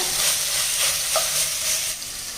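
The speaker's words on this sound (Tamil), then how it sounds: "இஞ்சி பூண்டு பேஸ்ட் சேர்த்ததுக்கப்புறமா ஒரு ரெண்டு நிமிஷம் நல்லா வதக்கி வச்சுங்க" Ginger garlic paste sizzles steadily as it is sautéed and stirred in a pot while ghee coconut milk rice is being made. The frying hiss is close and even, with no voices.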